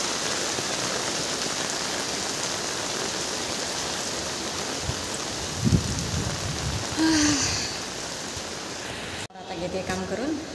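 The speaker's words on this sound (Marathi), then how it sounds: "जोराचा पाऊस चालू आहे." Heavy monsoon rain pours down in a steady, dense roar that fills the whole clip, with a brief voice heard near the middle and a sharp cut near the end.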